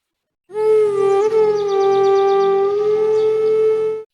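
An ambulance siren sounds as it arrives, a loud, steady electronic tone held for about three and a half seconds before it cuts off.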